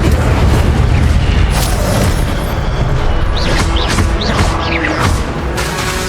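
A fire spell from Hogwarts Legacy gameplay on PS5 bursts with a loud, dense booming roar that rumbles continuously, with crackling and whooshing flourishes layered over the blast.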